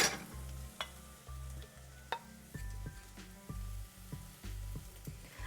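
Onions and vegetables sizzle in a pan under a steady frying hiss, while the pan is stirred with rhythmic scraping and knocks through the stretch; no voices.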